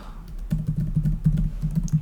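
Rapid typing on a computer keyboard, a steady run of soft, close key clicks after a brief quiet start, with no talking.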